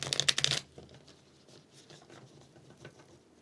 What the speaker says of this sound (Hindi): इस डेक को शफल भी डिफरेंट तरीके से कर रहा हूँ